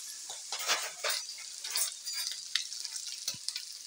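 Fish being turned over in a hot frying pan for fish biryani, giving scraping stirs and bursts of sizzling oil in short uneven strokes, close and fairly loud with no voices.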